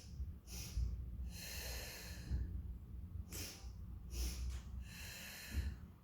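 Sharp nasal sniffing breaths taken during a side-lying Pilates mat exercise, short bursts in pairs and singles spread across the stretch, close and fairly quiet, with no talking.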